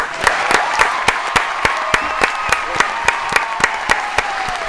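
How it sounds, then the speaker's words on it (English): Studio audience applauding a show guest, steady clapping with regular sharp claps throughout, under a sustained musical tone. "Big round of applause for the King of Schmoville"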